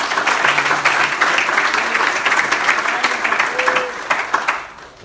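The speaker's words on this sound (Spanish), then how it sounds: "¿Cuántos le pueden dar un fuerte aplauso al Señor?" A church congregation gives a loud, sustained round of applause during a worship service, dense continuous clapping with a faint background voice, holding steady before tapering slightly at the end.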